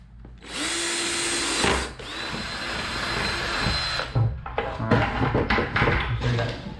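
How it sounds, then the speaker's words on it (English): A power drill bores holes into a plastic 5-gallon bucket: a sustained high whine for several seconds, a brief stop, then another long run before it breaks into choppy, stuttering bursts as the bit catches and releases. "Make sure you drill it good and then come over a little ways."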